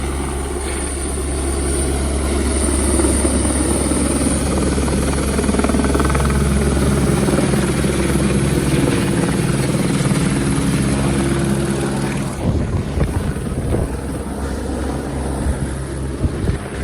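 A helicopter roars loudly and close on the Kedarnath route, its rotor thudding with strong wind buffeting the microphone, then the sound shifts abruptly near the end.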